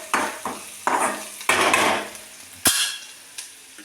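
Cucumber curry with added spices being sautéed in a pan, a spatula clattering and scraping in uneven strokes over a soft background sizzle, close and moderately loud.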